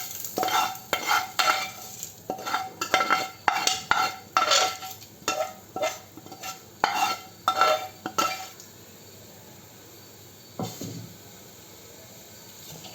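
Soaked wheat rava is stirred into a sizzling tempering in a pan for godhuma ravva idly: a spoon makes brisk, rhythmic scraping strokes for about eight seconds, then the sound drops to quiet, with one brief clatter near the end.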